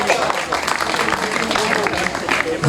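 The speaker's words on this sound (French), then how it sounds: "je voudrais tout simplement que vous applaudissiez ce jeune champion" A crowd applauds a young cycling champion on the final podium of the 2019 Tour des Landes in Aire, with steady clapping close by throughout, mixed with a voice talking over it.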